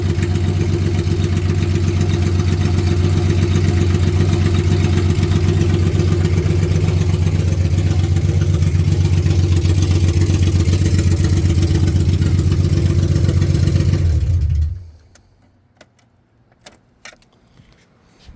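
A 2JZ engine swapped into a 1983 Toyota Corolla runs steadily with no exhaust, a loud, close, even rumble that holds for about fourteen seconds before cutting off, leaving a few faint clicks.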